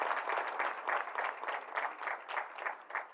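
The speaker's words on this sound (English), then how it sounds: "Now, pause for an applause." Faint, steady applause from an audience at a company rebrand announcement, a rhythmic patter of many hands heard from some distance without talk over it.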